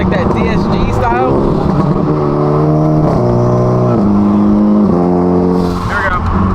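A Hyundai Elantra N engine pulls hard through upshifts, its loud, rising drone dropping in pitch at each gear change with exhaust pops, while a brief excited voice is heard near the start.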